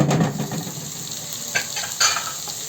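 Kofta meat sizzles in a heated frying pan, a close, steady crackling hiss with a few brighter spitting bursts.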